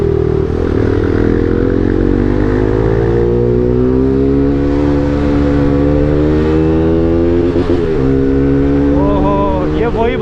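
Bajaj NS200 motorcycle fitted with an Akrapovic full-system exhaust, its engine running loud and steady with a rising rev that climbs in pitch over several seconds, close by and with no talking.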